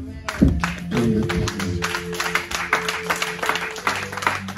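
A church congregation breaking into applause and acclamation, steady clapping from many hands mixed with crowd voices and a sustained musical tone, close and lively under a preacher's speech.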